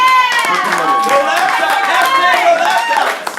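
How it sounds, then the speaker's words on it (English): A poetry slam crowd in Orlando erupts with loud whoops and cheering voices over scattered clapping, a close, sustained roar of approval. "He deserves a special round of applause."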